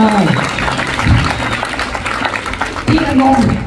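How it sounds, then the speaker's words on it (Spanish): A crowd applauds for the aunt during a comedy bit, a continuous clapping texture under loud laughter and shouting voices that rise and fall throughout. "¡Un aplauso para mi tía!"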